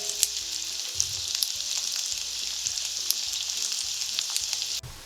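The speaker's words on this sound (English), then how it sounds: "we're going to flip them all over and let them finish cooking on the other side" Potato pancakes sizzle steadily in a hot pan after being flipped, a bright continuous frying hiss with small pops, fairly close, ending abruptly near the close.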